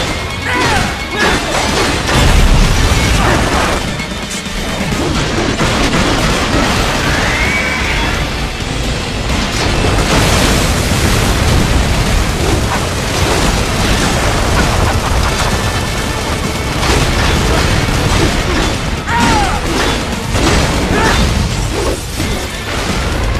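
Plasma cannon blasts and explosions in the Metal Gear Rising video game form a loud, dense, relentless barrage of crashing impacts, booms and rapid gunfire-like bursts, layered with metallic clangs throughout.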